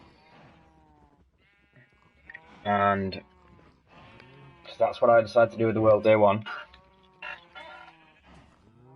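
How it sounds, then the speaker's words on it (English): Sheep on a sheep farm in a video game bleat, one short call and then a longer wavering run of bleats, heard under and between a person talking. "And then we've got sheep farm."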